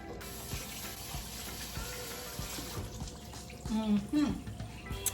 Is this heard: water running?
yes